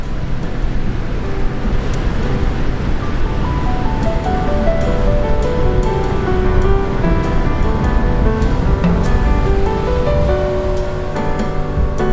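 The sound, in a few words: ocean waves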